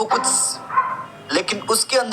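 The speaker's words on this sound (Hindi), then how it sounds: "अरे कौन भौंक रहा है ये बदतमीज" A dog in the Poppy Playtime game barks in several short, sharp yaps, mixed with a person talking.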